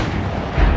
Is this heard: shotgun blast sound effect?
yes